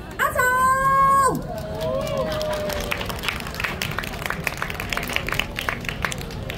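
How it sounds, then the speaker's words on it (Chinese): An audience at a 2023 school club showcase claps and cheers to welcome an LED light dance performer. After a brief tonal burst at the start, steady, dense applause and crowd noise continue to the end. "请大家用热情的掌声让我们来欢迎阿总"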